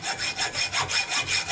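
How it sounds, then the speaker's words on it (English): A hand hacksaw cuts metal on a 1974 Jeep CJ-5 during a hub install, with quick, even back-and-forth rasping strokes, about four per second, close and steady with no talking. "I can just do it with a hacksaw, probably just as quick. We'll cut that right off right there."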